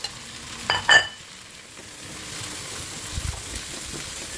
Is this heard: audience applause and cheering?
no